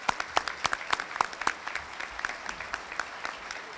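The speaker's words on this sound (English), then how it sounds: "a round of applause again for you guys" A small indoor audience gives a short round of applause, distinct individual claps rattling close by and gradually thinning out.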